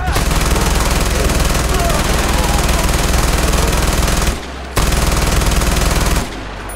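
Sustained automatic gunfire from a newly acquired gun in Far Cry 4, loud and rapid, pausing briefly twice before resuming in dense bursts.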